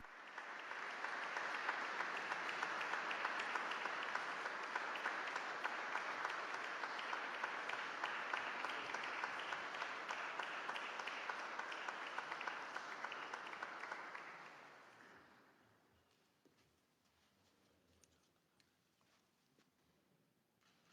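A hall audience applauds steadily and loudly as Pope Francis enters, a dense sustained clapping that fades out after about fifteen seconds into a quiet room with faint rustles.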